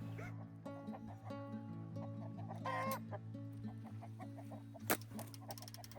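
Chickens in a backyard coop cluck and call in a busy, overlapping stream, close by and moderately loud, with a few dog-like yips and a sharp brief bang mixed in.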